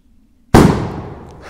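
A Cobra 8 firecracker packed into a dry tree goes off in a single loud, close bang after brief quiet, trailing into a long rumbling decay.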